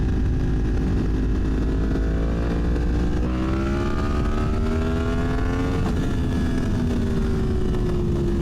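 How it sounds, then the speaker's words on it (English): A Yamaha MT-10 motorcycle pulls a second gear power wheelie, its engine loud and close, revving in a steady rising pitch that briefly dips near the end before climbing again. "Nice little second gear power wheelie."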